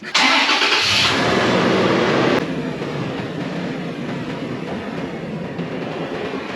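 A Chevrolet Camaro engine cranks and fires up with a loud, rough roar for about two seconds, then drops to a steadier, quieter idle rumble close by.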